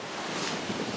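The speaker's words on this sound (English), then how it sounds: "As you can probably tell, it's pretty windy out." A brief, loud gust of wind blasts across the microphone on an abandoned stretch of the Pennsylvania Turnpike, steady broadband rumbling noise, with no voices.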